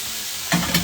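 A steak flipped in a hot pan sets off a sudden burst of searing sizzle with a short crackle, following a quieter background hiss.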